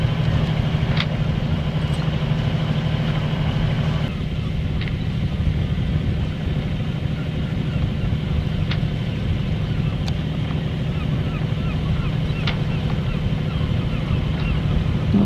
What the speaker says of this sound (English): Gold Dust sailing nicely.